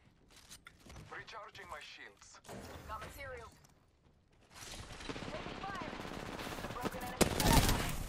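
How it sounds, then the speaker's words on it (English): Rapid gunfire bursts crackle through a fast Apex Legends arena fight. Voices talk over the first half, then dense, loud firing rises and keeps going to the end with sharp peaks. "They're shooting at me!"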